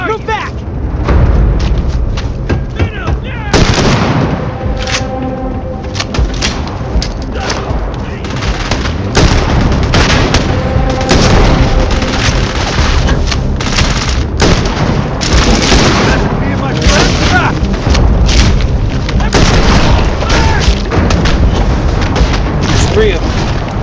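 Heavy weapon fire in the video game Starfield, with repeated loud booming blasts and bursts of gunfire layered over dense battle noise, continuous across the whole stretch, with voices talking underneath.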